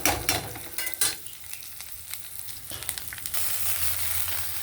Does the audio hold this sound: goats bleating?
no